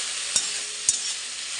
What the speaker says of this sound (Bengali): এখানে রসুন ফোড়ন দিয়ে লাল শাকটা ভাজছি